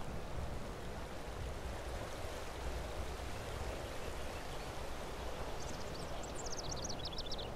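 A flowing stream in elk country rushes steadily and evenly throughout, a constant close wash of water, with a few faint bird chirps near the end and no talking.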